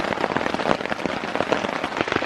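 Heavy rain pattering densely on a taut tent and tarp, a continuous crackling patter of drops with no voices.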